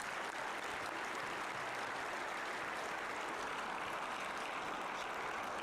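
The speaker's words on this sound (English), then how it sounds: "let's give a round of applause to not only the administration, but everyone who put this event on today." Sustained audience applause for event organisers at a high school Veterans Day ceremony, a dense, steady wash of clapping from a large crowd filling the whole stretch at even loudness.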